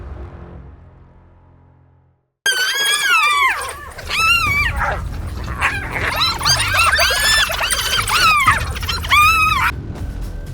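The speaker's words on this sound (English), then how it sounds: "a pack of wild dogs approaches 3 hyenas that are eating the remains of a carcass" A pack of African wild dogs squeals and yips in bursts of high, wavering calls on open savannah near three hyenas feeding on the remains of a carcass, loud and close, after a brief low rumble.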